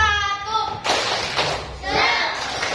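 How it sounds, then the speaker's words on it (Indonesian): Schoolchildren at an elementary school perform the tepuk semangat chant, rhythmic group claps and thumps mixed with voices chanting together in a classroom, fairly loud and close. "kita tepuk semangat dulu. Tepuk semangat SDN Nguling"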